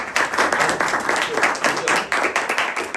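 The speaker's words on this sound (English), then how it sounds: "they'll give a round of applause real quick" A class claps a short round of applause, individual hand claps pulsing in a quick uneven rhythm at moderate, close range, with faint voices underneath.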